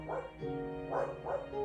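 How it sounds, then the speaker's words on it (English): A dog barks several times in quick bursts, loud and close, with a short pause between the first bark and the later pair. "That's just my dog."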